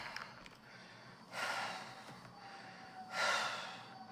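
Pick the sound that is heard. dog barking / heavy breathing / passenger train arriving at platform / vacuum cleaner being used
heavy breathing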